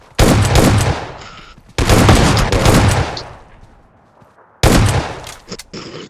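Shotgun blasts in a squad battle royale video game shootout: three loud, close booming shots spaced a second or more apart, each trailing off into a short echoing tail.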